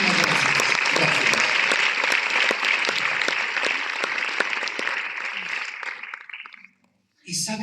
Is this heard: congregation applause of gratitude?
yes